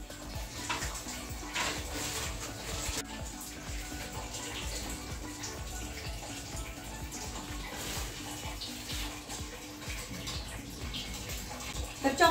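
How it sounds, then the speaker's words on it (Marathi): Water pours from a tap into a container in a home kitchen, a steady splashing rush running the whole time with a few louder surges and faint clinks, no clear talk. "इकडे चाललं आहे पाणी भरायचं।"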